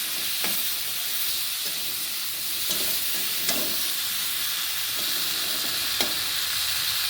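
Eggplant pieces fry in hot oil seasoned with salt and turmeric, giving a loud, even sizzle throughout, broken by a few sharp scrapes and clicks of stirring close by.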